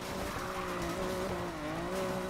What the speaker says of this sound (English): For an all-wheel-drive car, this thing gets pretty squirrely.